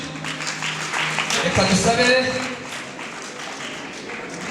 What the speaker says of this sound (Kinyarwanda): Murakoze cyane amashyi menshi